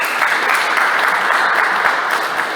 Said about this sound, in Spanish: Denle un fuerte aplauso a nuestro Señor Jesucristo.